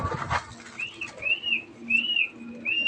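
Pet pigeons coo softly in short, low repeated phrases close by, with brief higher chirps from other birds and some handling noise.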